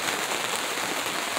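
Steady rain pours outside a greenhouse on a homestead, a dense, even hiss of drops striking surfaces that holds at a constant level for the whole stretch with no voices.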